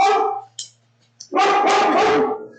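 A pet dog, apparently a female, barks in a short burst of yelps, then a louder run of three or four harsh barks close by, heard alone.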